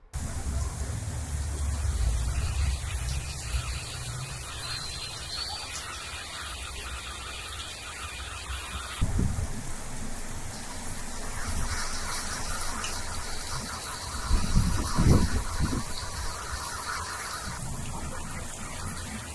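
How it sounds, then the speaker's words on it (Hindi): Heavy monsoon downpour over the town of Dabhoi near Vadodara, a steady broadband hiss of rain with a few louder gusts or splashes, and no voices. "वडोदरा के डभोई शहर और तालुका में भी सुबह से ही मूसलाधार बारिश जारी है"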